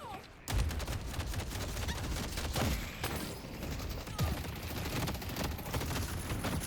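Rapid gunfire in the hero shooter Deadlock comes as dense, sustained volleys of overlapping shots with brief lulls. Loud and continuous, with muffled game effects mixed in.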